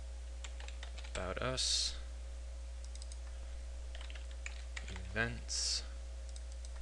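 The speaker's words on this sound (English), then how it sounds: "So let's just type in" Someone types quick clicky bursts of keystrokes on a computer keyboard while setting up drop-down menus in web design software. Someone speaks briefly between and over the typing.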